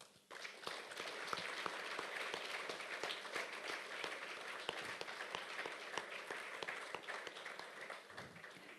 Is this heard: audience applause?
yes